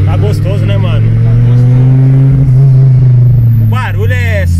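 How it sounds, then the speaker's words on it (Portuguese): Strong, steady rumble of a Fiat Marea Turbo five-cylinder heard from inside the cabin as it pulls, with a rising tone suggesting turbo whistle, and people talking over the engine. "Cinco cilindrão. Turbina pitando, o bagulho é gostoso demais"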